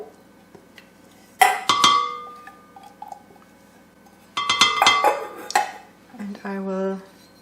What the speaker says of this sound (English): I will mix this with some sugar and with some soft butter, or in this case margarine.